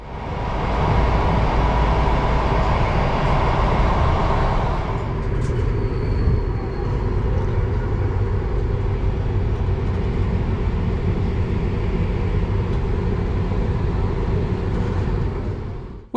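A PKP Intercity train from Berlin pulls into Krakow Główny, a loud continuous rolling rumble of wheels on rail with a brief high brake squeal partway through as it slows.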